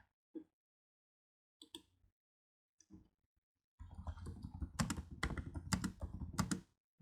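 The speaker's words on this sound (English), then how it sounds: "I'm typing." Keys clatter on a computer keyboard, first a few isolated taps spaced apart, then a dense run of quick typing, close and moderately quiet, with no speech.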